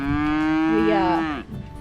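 A single cow moos in a field, one long drawn-out low call of nearly two seconds, close and clear, fading at the end with no talk.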